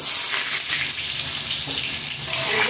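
Pumpkin and vegetables frying in hot oil with five-spice (panch phoron), a loud, steady hiss of sizzling that fills the whole stretch with no voice over it.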